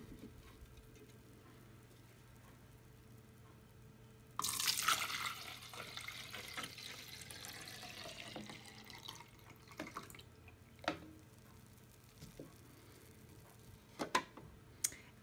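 Water is poured into a measuring jug, a sudden splashing stream that starts loud, then settles into a quieter trickle with scattered drips and small clinks as it tails off in a quiet room.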